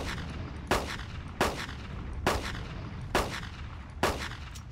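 Five evenly spaced gunshots in the video game Carnivores Dinosaur Hunter Reborn, each a loud sharp boom with a short decaying tail over steady background ambience, roughly one shot per second.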